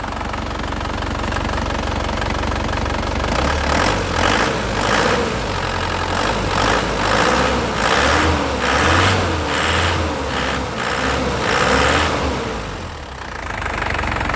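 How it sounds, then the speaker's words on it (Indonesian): A 2009 Isuzu Panther LS Turbo diesel engine idles steadily throughout, a low rumbling drone with a faint rhythmic knocking clatter, close and loud, with no voices. "Suaranya renyah ya, stasionernya suaranya enak, jadi mesinnya memang mesin sehat."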